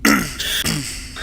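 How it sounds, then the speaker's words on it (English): A single close throat-clearing cough with a rough, raspy burst at the start, then a second shorter hack midway, sounding inside a chamber approached from the southwest corner. "you can hear a loud sound of coughing"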